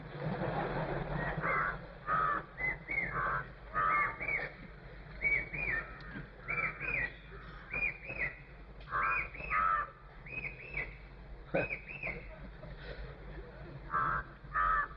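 A crow caws again and again in steady bursts of harsh calls, fairly close and loud, with a voice speaking in the background between calls.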